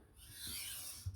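A knife edge is drawn in a single light stroke across a sharpening stone, a soft, brief rasping scrape heard up close in quiet surroundings.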